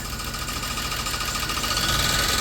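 A 1991 Dodge Grand Caravan SE, just started after long sitting, idles steadily with a continuous mid-pitched engine hum and faint ticking vibration, close and unbroken with no talk.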